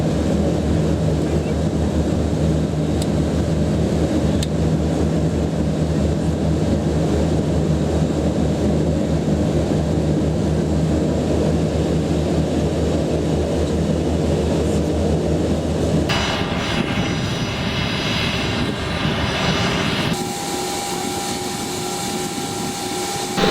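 Steady, loud cabin drone of a Madagascar Airways airliner in flight, a continuous engine roar filling the whole stretch, with the tone shifting near the end as the sound changes character.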